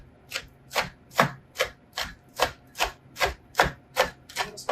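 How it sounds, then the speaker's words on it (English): A knife rough chops cooked bacon on a cutting board, ending up with small pieces. About a dozen evenly spaced chops land in a steady rhythm, each one a sharp, close thud with a short scrape. "we're just going to really rough chop bacon"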